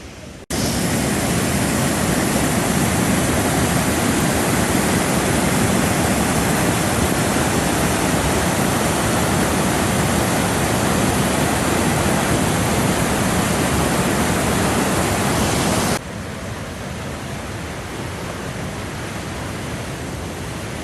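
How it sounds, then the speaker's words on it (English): Steady, loud roar of falling water from waterfalls in the Olympic Mountains, a broad constant rush that drops abruptly in level near the end to a softer wash. "They're just everywhere, just waterfalls everywhere"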